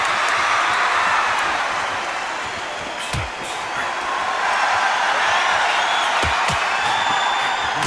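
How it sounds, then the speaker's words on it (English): A dense crowd roars and buzzes at a fight in a video game, a loud continuous wash of noise with a couple of thuds, while a commentator's voice talks over it. "Crowd here cannot wait. They've been buzzing all day long"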